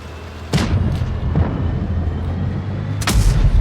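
Tank cannon shots in the mobile tank battle game World of Tanks Blitz, with two loud booming blasts about two and a half seconds apart, plus a softer thud between them, over a steady low engine rumble.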